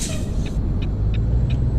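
Heavy truck in American Truck Simulator slowing for a right turn, with a sharp hiss of air brakes at the start over a steady low engine rumble, then several short repeated air puffs.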